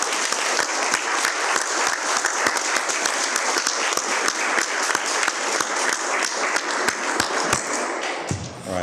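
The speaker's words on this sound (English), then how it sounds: "I just want to give him another hand." Sustained audience applause after a panel discussion on the Voting Rights Act, with crisp, dense clapping throughout that tapers off at the very end.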